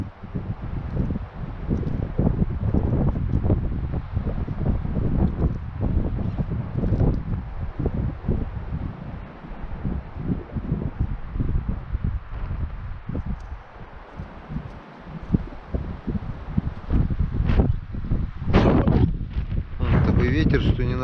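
Strong wind buffets the microphone in the taiga on a sunny, above-freezing day by a thawing river, a steady loud roar with gusts running throughout, while a voice talks now and then.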